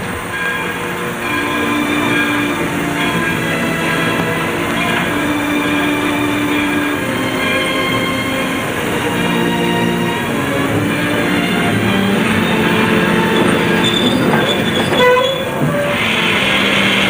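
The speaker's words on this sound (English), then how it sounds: "here comes our train, kid." A train pulls into a station with a steady rumble of railcars and wheels, metallic squeals, and a horn-like tone near the end, loud and continuous without speech.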